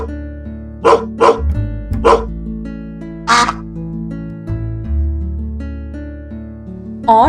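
A dog barks in a short sequence of distinct, clear woofs, serving as an example animal sound in a beginner coding game, with tonal game music and sound effects playing underneath.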